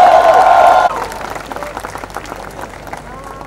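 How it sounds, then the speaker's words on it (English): A crowd at a film promotion event applauds the director, with loud clapping and crowd noise arriving under an announcer's amplified voice, then thinning and continuing more quietly behind scattered sounds. "Please give her a big round of applause."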